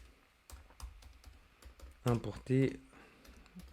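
Keystrokes on a computer keyboard while a line is typed in Xcode, a loose run of light clicks, then someone speaking briefly over the typing.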